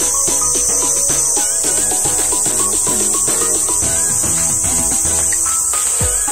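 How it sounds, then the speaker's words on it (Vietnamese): Cicadas drone at a campsite beside a ditch, a continuous shrill buzz holding steady over tonal background sounds for the whole stretch, with no talking. "Cái tiếng con ve sầu nó kêu quá trời luôn cả nhà."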